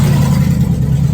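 Car engines rumble steadily at close range as cars arrive at an airport pickup area, a continuous low hum with slight revving and no talk.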